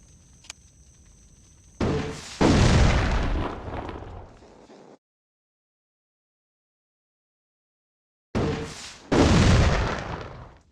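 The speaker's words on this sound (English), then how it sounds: "What I think I might have to do is use the grenade launcher." Two heavy grenade-launcher blasts from the video game The Thing Remastered, each a loud burst with a rumbling tail, separated by several seconds of silence.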